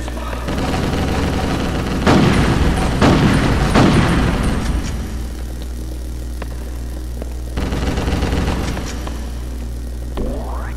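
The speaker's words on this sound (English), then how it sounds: "Who's shooting at me?" Gunfire in the PS2 game Ghost in the Shell: heavy bursts of shots and booming impacts in several clusters, loud and close, with quieter stretches between volleys.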